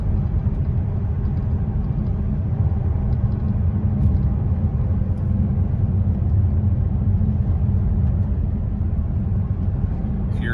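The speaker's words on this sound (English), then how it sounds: "And just a little bit of gas in this thing just really takes off." A Bentley Supersports with a twin-turbo W12 pulls under light throttle, a steady deep engine rumble and road drone heard from inside the cabin, constant and loud throughout.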